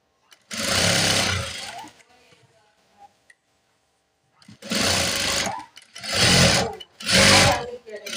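A sewing machine runs in several bursts while stitching a nurse uniform top: one long run, a pause with small clicks, then three quick runs in succession, loud and close.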